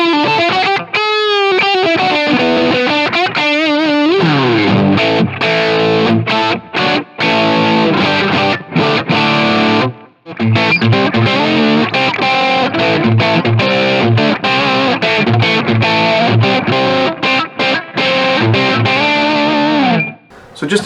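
PRS SE Custom 24-08 electric guitar played with both humbucking pickups engaged through heavy distortion, a loud, continuous run of classic rock riffs and chords with brief gaps between phrases.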